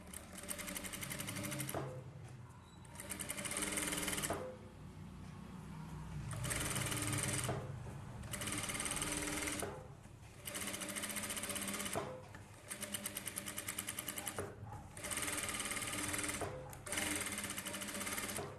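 Sewing machine stitching along the Aari work on a blouse, running in steady bursts of about two seconds with brief pauses between, a close, even mechanical whir and rapid needle clatter with no talking.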